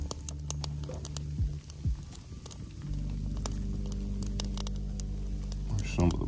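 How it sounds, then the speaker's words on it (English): Rain begins falling outdoors, scattered light patters and ticks over a low steady background. "it's starting to friggin' rain right now."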